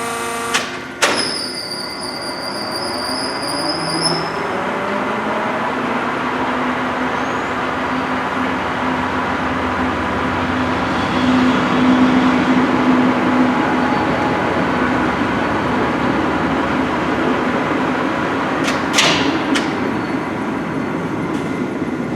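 A 32 by 96 inch LeBlond Regal engine lathe with a taper attachment runs at speed, holding a steady loud mechanical hum and whine with a few brief clanks near the start and end, no talking.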